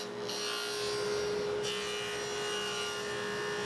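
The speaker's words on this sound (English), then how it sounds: "Now we're going to cut a dado that is 3/4 inch wide and 2 1/4 inches from the bottom." Wood being cut for a 3/4 inch dado in a barn door night stand gives a continuous, close rasping and grinding with a steady underlying whine, unbroken and fairly loud.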